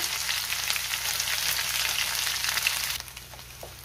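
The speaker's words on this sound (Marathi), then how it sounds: "आता ही तेलावरती आपण चांगली 2 मिनिटं परतून घेऊया" Coriander chutney sautés in hot oil in a pan with a dense, even hiss and crackle that drops suddenly to a quieter simmer near the end. No voices.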